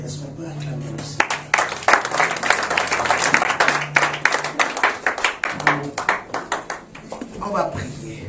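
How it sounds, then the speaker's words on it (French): A church congregation at a Sunday service bursts into sustained applause and clapping after being asked to acclaim the Lord, with voices and cheers mixed into the dense, steady crowd noise. "Est-ce qu'on peut acclamer le Seigneur?"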